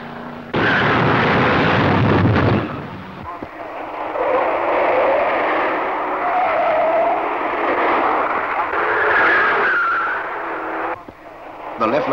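Loud, continuous engine roar of powerful racing cars at the 1967 Gallaher 500 at Bathurst, with several cars passing close, rising and falling as they go by, and a brief lull before the noise swells again.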